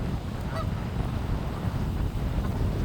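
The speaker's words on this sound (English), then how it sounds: "Look at these geese." Geese honk a few times, faint and in the distance, during an outdoor nature walk past grass and zip lines, under steady wind and low background rumble.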